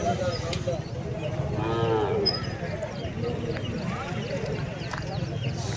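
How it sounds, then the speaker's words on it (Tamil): A native plough bull from Pudukkottai at the Matrapalli cattle market gives one drawn-out moo amid busy market noise. People talk throughout. "காளை சூப்பராக இருக்குது பாருங்கள்."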